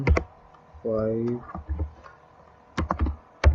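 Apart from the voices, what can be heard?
typing ping command on computer keyboard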